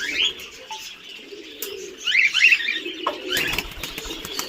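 Fancy pigeons cooing and calling at a pigeon breeding farm in Assam, a soft layered chorus of coos with a few brighter chirps, close and steady throughout with no talk.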